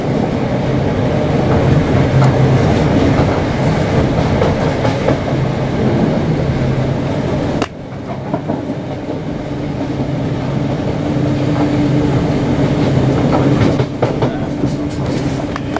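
A Class 318 electric train runs on rails between Milngavie and Cumbernauld via Glasgow, with a loud, steady rumble and wheel clatter. The noise dips briefly midway, then builds again.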